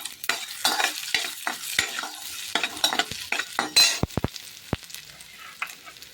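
Crushed, chopped garlic stirred and sautéed in a pan for garlic rice, with steady close sizzling broken by repeated scraping strokes of a spoon against the pan.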